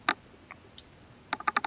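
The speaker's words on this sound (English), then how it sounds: "let me type some of those in here" Short bursts of keystrokes on a computer keyboard as numbers are entered: a lone tap, a few faint clicks, then a quick run of five or six close, crisp taps at the end.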